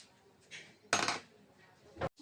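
Idli batter thickened with maida is mixed in a bowl, giving a few soft, wet scrapes and one louder sloshing stir, close and faint against a quiet room with no voices.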